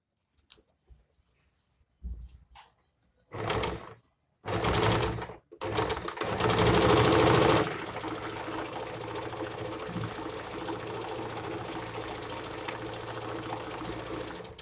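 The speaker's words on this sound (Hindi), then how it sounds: "इस तरह एक के ऊपर एक रखेंगे और इसमें डबल सिलाई लगा लेंगे।" A close, quiet electric sewing machine double-stitches elastic on palazzo pants, starting and stopping in short bursts before running in one long, steady whirring stretch.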